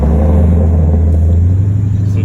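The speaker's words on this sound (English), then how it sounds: "GT500 doing the burnout, getting his nittos ready" A 2014 Shelby GT500 doing a burnout on Nitto tires produces a loud, steady low engine rumble that builds slightly toward the end, close and continuous.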